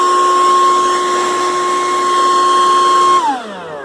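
A Makita 36V XBU02 cordless blower runs at full speed, giving a loud, steady high-pitched whine with a strong tonal hum that holds constant, then winds down as the motor is released at the end.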